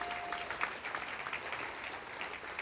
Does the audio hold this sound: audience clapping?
yes